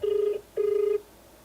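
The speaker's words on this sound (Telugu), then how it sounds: "రింగ్ అవుతుంది సార్" Two bursts of an outgoing ringback tone on a phone call, each a steady electronic purr of roughly four tenths of a second with a short gap between, clear and close with no talking.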